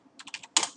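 Short burst of computer keyboard typing as an AutoCAD command is entered: four quick, close keystrokes followed by a louder final key press, alone with no talk.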